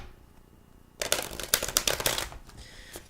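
A burst of quick, crisp riffling clicks as cards are shuffled close by, after a second of near quiet, then trailing off.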